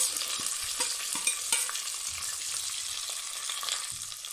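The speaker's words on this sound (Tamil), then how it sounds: "1 கப்பு சின்ன வெங்காயத்தை பொடியாக நறுக்கி போட்டுக்கலாம்." Chopped small onions, garlic, green chillies and curry leaves frying and being stirred in a pan for a herbal tuber soup, with a steady sizzle and repeated soft scraping strokes of the spoon, close and continuous, no voices.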